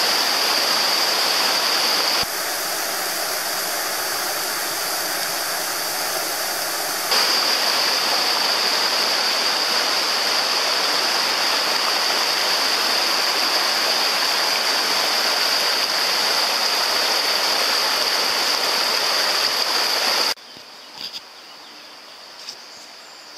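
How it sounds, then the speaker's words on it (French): Water gushes from the Fréjo spring in the Jaur valley, a steady broadband rush that holds continuously for about twenty seconds and then drops away to a much quieter, thinner flow near the end, with no voices. "Ça débite quelque chose, il va y avoir une sacrée rivière là-dessous."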